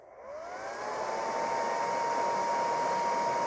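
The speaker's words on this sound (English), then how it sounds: "I have it programmed to turn the motor at 5 hertz, which very slowly turns the chuck" A three-phase lathe motor driven by a VFD jogs slowly at 5 hertz, turning the chuck. Its electronic whine rises in pitch, then settles into a steady, close hum with a high tone and hiss. No talking.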